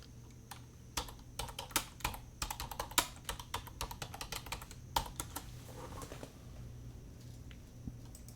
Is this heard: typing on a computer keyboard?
yes